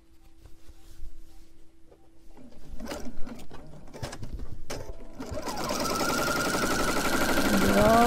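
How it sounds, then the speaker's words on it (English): A sewing machine stitches flannel rag quilt blocks together. Scattered handling noises come first, then the motor starts up and runs in a steady, loud, close whir to the end. "So let me line these up and get this sewn together."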